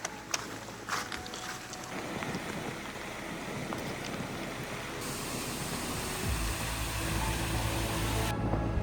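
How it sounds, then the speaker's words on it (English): Waves washing and a howling wind at a remote bay on the Scottish coast after rain, a steady broadband roar with gusts swelling and rushing, no voices. "The sound of waves, a howling wind"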